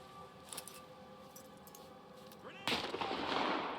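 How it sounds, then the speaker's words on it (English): Grenade detonating in the shooter video game S.T.A.L.K.E.R. 2, a sudden loud broadband blast after a few quieter clicks and metallic taps, its rumble trailing off to the end. "we're gonna throw a grenade at that one there"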